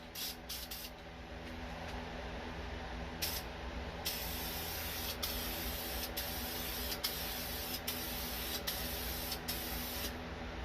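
An aerosol can sprays a coat onto a Honda del Sol headlight in a shower stall with a fan running, a steady loud hiss broken by several brief stops and restarts over a constant background hum.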